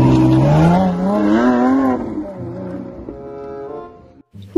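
Loud revving race-car engine effect from a blue toy race car, its pitch rising and falling in a continuous roar for about two seconds before it rumbles lower and fades, ending in a brief gap.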